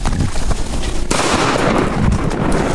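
A Beretta A300 Outlander semi-automatic shotgun fired at game outdoors gives a sudden loud blast partway through, sharp and close, with its boom carrying through steady background noise.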